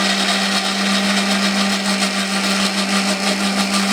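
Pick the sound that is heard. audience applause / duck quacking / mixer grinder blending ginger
mixer grinder blending ginger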